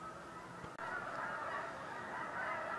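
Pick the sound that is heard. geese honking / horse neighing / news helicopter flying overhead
geese honking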